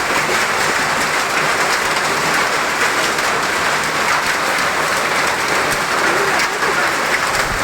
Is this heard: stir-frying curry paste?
no